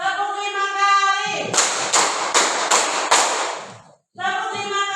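A class of students claps five times in unison during a classroom game, five sharp group claps in quick, even succession, with a voice talking just before and after.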